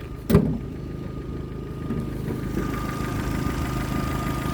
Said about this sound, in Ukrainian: щоб послухати роботу мотора